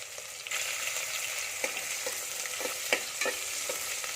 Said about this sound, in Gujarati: તેમાં ડુંગળીને આપણે સાતરી લેશું।